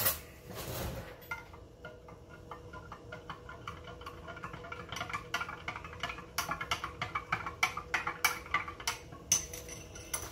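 Venison sausage mixture is stirred in a container, first quietly and then with a quickening series of close, light clicks and knocks that grow denser toward the end.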